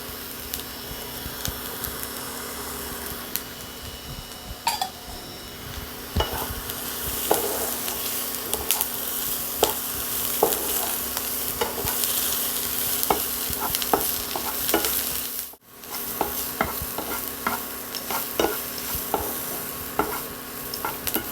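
Carrot and capsicum sizzle steadily in a hot pan while a utensil scrapes and stirs repeatedly, with a brief pause partway through.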